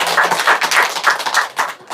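A church congregation applauds a donated 15-seat van during an outdoor Sunday service, dense continuous clapping that swells and ebbs in waves and stays loud and close throughout.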